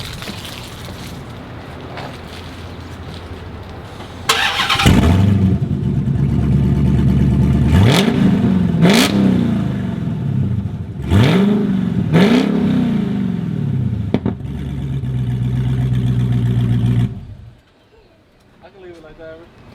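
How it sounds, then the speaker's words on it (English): A Dodge SRT Hellcat with straight-pipe exhaust cranks and fires, then revs hard in several sharp rising blips that fall back to a loud, lumpy idle before cutting off abruptly. "Now I'm gonna turn the car on and see how it sounds."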